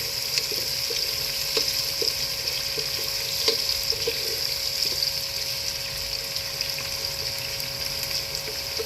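Chopped onions frying in hot oil in a pot until brown for aloo matar pulao, a dense continuous sizzle with faint clinks of stirring, close and steady with no talking.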